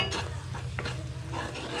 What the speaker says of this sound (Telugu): చూడండి, ఈ షుగర్ అంతా కరిగేంత వరకు తిప్పుతూనే ఉండండి.